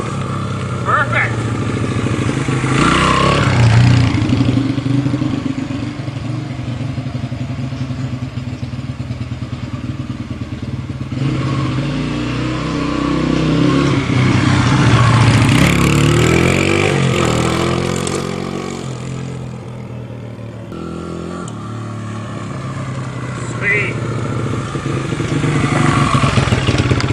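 Engine of a 1978 XL 250 motorcycle running after a cold start, with a fresh timing chain fitted, a close steady rattling idle with rising and falling revs throughout.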